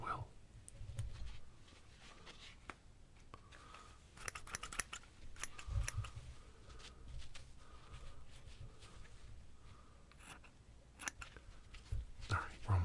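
Scissors snipping through puppet strings in a close, quiet ASMR setting, with repeated small clicks and cuts scattered across the span over a soft background.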